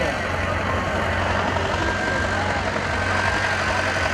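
A tractor engine idles with a steady low rumble throughout, fairly close, under a busy outdoor background.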